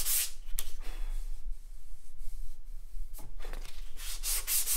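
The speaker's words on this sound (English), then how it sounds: "I'm using 180 grit to remove it" Hand sanding of a wooden guitar neck with 180 grit sandpaper, a steady close rubbing scrape in repeated strokes with brief pauses between passes.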